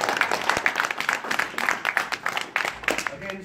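Moderate crowd clapping at an activist meeting, uneven hand claps with a loose pulse, fairly close and steady over a few seconds.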